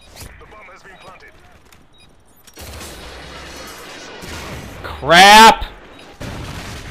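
A K-14 gun fires in a first-person shooter game as a short, loud, dense burst of shots near the end, with a voice exclaiming over the game noise.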